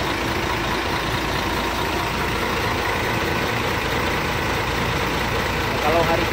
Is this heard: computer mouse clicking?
no